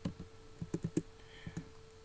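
Quiet, close typing on a computer keyboard: a short burst of about a dozen light, uneven key clicks over a couple of seconds, with no talk.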